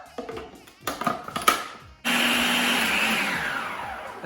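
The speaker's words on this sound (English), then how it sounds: "I'm just going to give it a mix and another blitz." An electric blender blitzing Greek meatball mixture with parsley, starting after some clattering and knocks, then a sudden loud steady whir that holds for the last couple of seconds.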